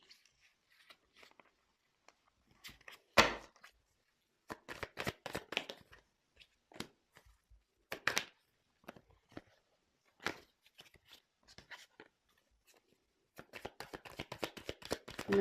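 Tarot cards handled and shuffled at close range, quiet irregular riffling and flicking bursts separated by brief pauses, with faint occasional talking.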